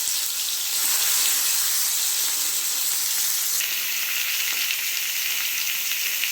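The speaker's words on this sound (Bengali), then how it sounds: "তেলটা গরম হয়ে গেছে, এবার এক এক করে সব বাঁধাকপিগুলো এর ভিতরে দিয়ে ভেজে নেব" Cabbage pieces fry in hot oil, filling the clip with a loud, steady hiss and bubbling sizzle that holds even throughout with no voices.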